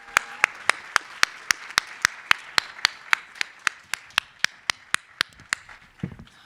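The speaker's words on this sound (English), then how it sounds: "another round of applause for our panelists" Applause for panelists at a university anniversary event comes across as crisp, evenly spaced claps in a steady rhythm, close and distinct rather than a dense crowd wash, ending with a brief low rumble.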